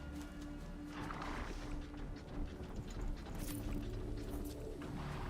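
Horse neighing in the video game Horizon Zero Dawn, a few whinny-like calls rising out of a dense, continuous bed of mechanical clanking and rumbling ambience, moderately close and without talk.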